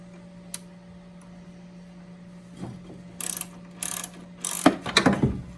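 A ratchet turns on a strut mount nut during a front strut replacement, a few short bursts of rapid metallic clicking, close up, growing louder toward the end after a quiet start.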